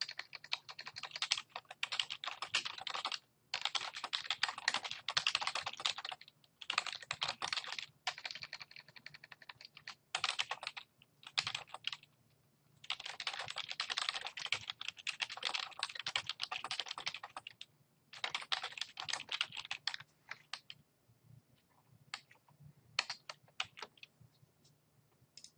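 Typing on a computer keyboard while writing a lesson unit plan summary: quick, close bursts of key clacks separated by short pauses, with no voices.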